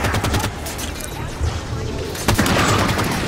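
Dense automatic gunfire crackles in Halo 5: Guardians during a firefight near a Pelican dropship, loud rapid bursts with heavier booming shots around 1.5 and 2.3 seconds and no voices over it.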